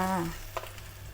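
A fish fillet, saba mackerel, laid skin-side down in a hot frying pan, giving a quiet sizzle under a low hum with a brief soft clatter as it lands; a short vocal sound opens it.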